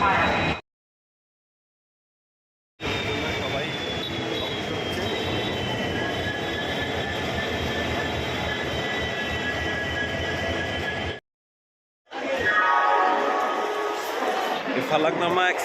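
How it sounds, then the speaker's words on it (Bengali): Falaknuma Express train standing at a platform of Howrah station, with a steady mechanical hum and a faint high whine under loud platform crowd noise, cut by two silent gaps and a squealing burst near the end. "ফালাকনামা এক্সপ্রেসও ইতিমধ্যেই প্ল্যাটফর্মে চলে এসেছে"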